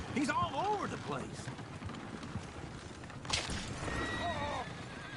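A horse in the video game Red Dead Redemption 2 gives two loud, wavering whinnies close by, then a higher neigh further off over hoof clip-clops and shuffling movement, with a voice briefly audible.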